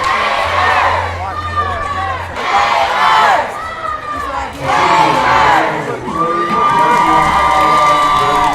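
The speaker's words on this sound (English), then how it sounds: "Crowd starting to get rowdy here." Rowdy crowd at a 5A state championship high school baseball game, loud repeated waves of cheering, whooping and shouting, swelling and falling in several surges, close and boisterous.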